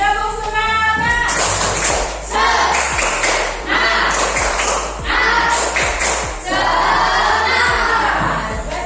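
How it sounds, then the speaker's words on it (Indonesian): A class of schoolchildren performs a rhythmic spirit clap, with bursts of patterned clapping and chanting voices repeating in rounds, close and lively. "Sekali lagi, tepuk semangat."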